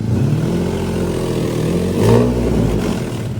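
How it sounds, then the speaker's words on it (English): A Nissan 370Z with resonated test pipes idles with a steady exhaust burble, then swells in a brief rev around the middle before settling back. "Rev it again, rev it again."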